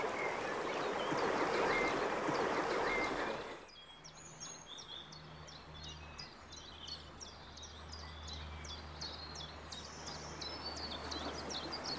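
Rapids on the Élez river rush over rocks in the Saint-Herbot chaos, at first a loud roaring wash that drops to a softer steady flow, with birds chirping repeatedly above it.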